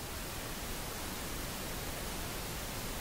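Pink noise test signal from Craigland Audio's free Pink plugin, used to set home studio monitoring levels: a steady, even broadband hiss that holds at constant loudness throughout, with no other sounds.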